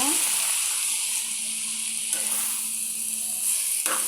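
Lightly boiled cabbage bhaji sizzles in a pan as it is stirred. A steady, close frying hiss continues throughout, and a few brief scraping sounds rise near the end.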